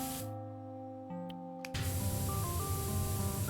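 A pressure washer sprays continuously in the PowerWash Simulator video game, a loud, steady broadband hiss that kicks in partway through and holds, with quieter tonal game sounds beneath.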